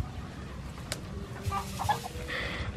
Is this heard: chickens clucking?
yes